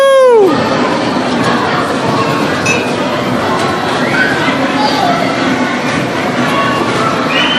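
A small ride-on Christmas train runs with a steady rumble and light clinking, a descending whistle-like tone at the start, while children and adults talk and call out over it.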